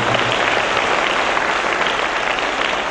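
Audience applause at a parish declaration gathering, a dense, steady wash of many hands clapping throughout, loud and close, with no voice rising above it.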